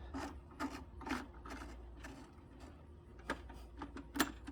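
A ratcheting, rasping mechanism clicks in short irregular bursts as the tension setting on a VEVOR 75-foot portable drain auger is tightened, faint and close with no talking.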